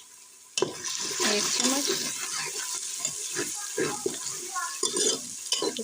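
Garlic goes into a pan of golden frying onions, bringing a loud, steady sizzle with scraping spoon strokes and clinks against the pan, while someone speaks briefly over it.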